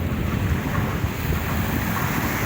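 Waves of Manila Bay churn and wash steadily at high water, a broad continuous surf roar mixed with heavy wind buffeting on the microphone, with no voices.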